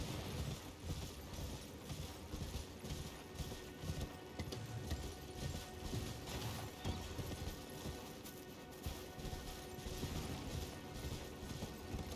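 Horses gallop in a steady clip-clop across the Elden Ring game world, riders approaching with a continuous rumbling patter of hooves under faint ambient noise, no one talking.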